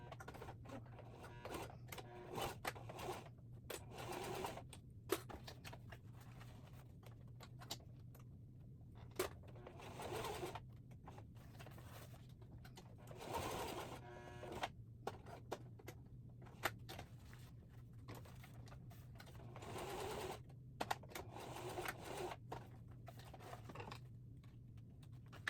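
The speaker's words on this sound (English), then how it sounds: "now I'm sewing the last handled piece on" Domestic sewing machine stitching the last handle piece onto a fabric tote bag, a steady mechanical hum running in bursts of a few seconds with short pauses between, close and fairly quiet, no talking.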